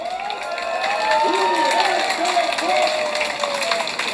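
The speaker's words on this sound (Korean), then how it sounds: "우리 옆에 계신 분들한테 서로 박수 한번 쳐주세요." A large crowd at an outdoor rally claps for one another, loud continuous applause mixed with cheering and raised voices shouting over it.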